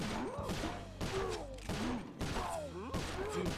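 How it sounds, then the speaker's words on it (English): Gunfire in the video game Sly Cooper: Thieves in Time, repeated sharp bursts a few times a second, loud and close, with game sounds layered between the shots. "I'm literally just gonna shoot him in the head."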